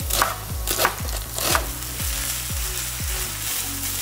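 Small onions sizzling steadily in a pan on an Aga range cooker, with a series of regular thuds and scraping knocks as they are turned over, close and fairly loud, no talking.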